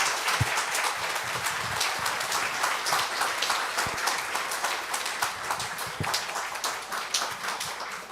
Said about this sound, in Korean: 우리 힘찬 박수로 격려의 박수로 맞이하겠습니다